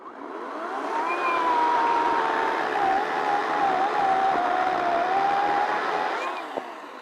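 A Ryobi cordless chainsaw cuts through a log up close, with a steady, loud motor whine that wavers slightly in pitch over a rough, continuous cutting rasp for about six seconds, with no talking.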